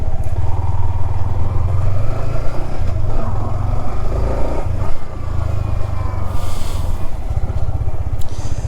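A 2021 Yamaha R15 V4 motorcycle rides on the road, its engine droning loud and steady up close with a buzzy tone and slight rises in revs, along with wind noise and no talk.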